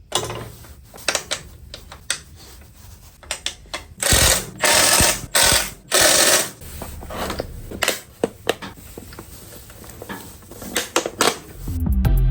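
Ratchet clicking in repeated bursts while fitting a subframe extension on a salvaged, wrecked Kawasaki Ninja ZX6R, with loud rapid runs of clicks, pauses and clanks of metal parts close by.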